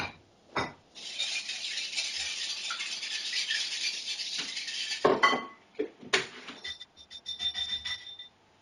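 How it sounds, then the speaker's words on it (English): A whisk beats cinnamon cupcake batter in a bowl, a quick steady metallic rattle and clink against the bowl sides, close up, ending in a few sharper taps and scrapes. "Perfect, and then give that another whisk."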